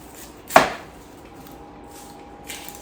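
A knife slices onions on a board for caramelizing, making one sharp, close chop, then quiet, then a fainter cut at the end.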